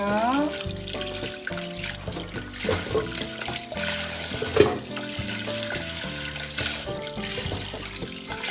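Boiled pork bones are rinsed under running water in a kitchen sink, a steady splashing flow heard under background music.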